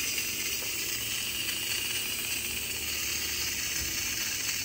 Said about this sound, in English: So let's release the steam.